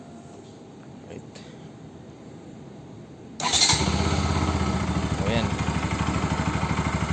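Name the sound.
Kawasaki Rouser NS 200 motorcycle engine starting and idling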